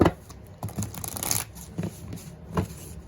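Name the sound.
shuffling cards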